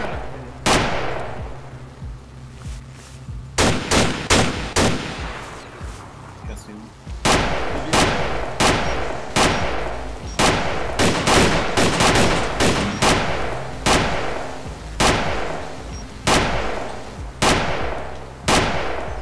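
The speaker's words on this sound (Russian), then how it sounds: "По мне стреляют." Video game gunfire with a sniper in the fight: loud, sharp shots crack repeatedly, some in quick bursts and others spaced apart, with voices talking over the action.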